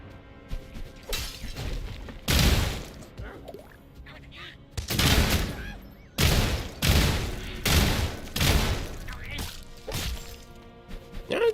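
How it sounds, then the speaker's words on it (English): A burst-fire shotgun with a prism effect in the game Sulfur fires several loud, sharp bursts in quick succession, each blast cracking and clattering close by, with a voice talking between shots. "the prism effect on the burst fire shotgun's pretty good"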